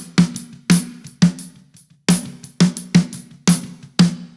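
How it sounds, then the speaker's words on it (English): Aggressively EQ'd snare drum, isolated: eight sharp, punchy hits in a steady groove with a ringing midrange body and bright crack, loud and dry with no other instruments. "So as you can see, I'm EQing this snare pretty aggressively."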